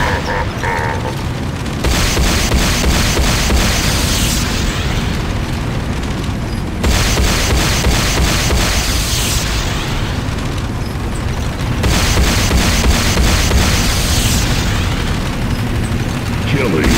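Explosions and rumbling booms as a Nod airstrip is destroyed in the video game Renegade, dense continuous blasts in long loud bursts, with spoken announcements layered over them.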